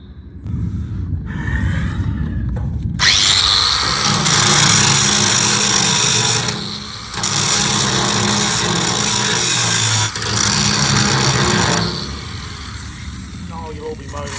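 A power tool grinds metal during a welding repair on an old Kubota, loud and close, running in long bursts with brief pauses, with a voice speaking before it starts.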